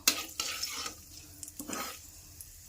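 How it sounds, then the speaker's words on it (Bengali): Bay leaf and cumin seeds heating in hot oil give a soft, uneven sizzle with a few scraping stirs, close by and fairly quiet, with no talking. "আমি এখানে সম্বারের তেজপাতা আর জিরা দিয়ে দিয়েছি। এগুলো গরম হয়ে আসছে"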